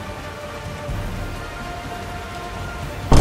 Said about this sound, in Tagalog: Medyo lumalakas yung ulan